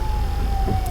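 An emergency vehicle siren wails steadily at moderate distance from inside a slowly moving car, one sustained tone over low road rumble.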